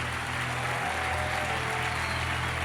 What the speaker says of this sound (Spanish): Fuerte ese aplauso a Jesús.